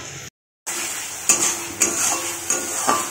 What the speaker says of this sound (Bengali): এই যে এখন হচ্ছে মশলা কষানো হচ্ছে